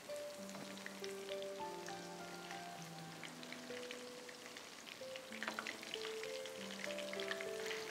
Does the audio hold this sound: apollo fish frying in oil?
yes